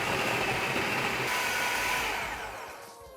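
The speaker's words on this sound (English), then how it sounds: "just buy yourself a food processor and you can grate with your food processor" A food processor grates okra with a loud, steady motor whir and grinding. The sound runs evenly and then winds down toward the end as the machine stops.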